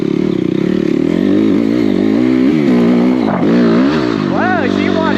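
A Stark VARG electric dirt bike climbs a hill with a loud, close, steady motor whine that rises and dips with the throttle, while a rider talks over it.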